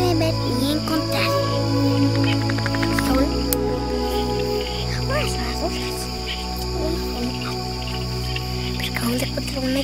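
A tiny frog calls with brief high chirps over a steady insect-like drone, small creaking notes repeating faintly through the outdoor background.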